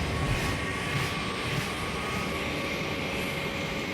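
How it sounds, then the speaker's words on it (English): A rescue helicopter sits on a ship's helipad with its rotors spinning, giving a steady, loud, unbroken turbine whine and rotor roar that runs the whole time with no voices. "Rolly moves the ship's crew away from the spinning rotors."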